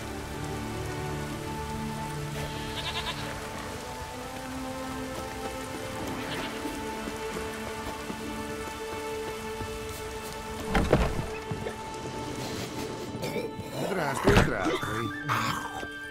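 Steady rain falling on surfaces in The Witcher's Gwent card-hunting world, a continuous soft hiss through the whole stretch with a few louder splashes or thuds near the end.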